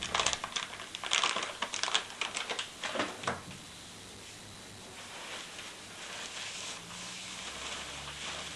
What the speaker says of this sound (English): unwrap the bearing and wipe the preservative from the bore